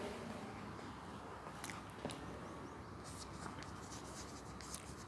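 Pen scratching across paper as English text is handwritten, with faint, close strokes and scattered taps over a soft background hiss.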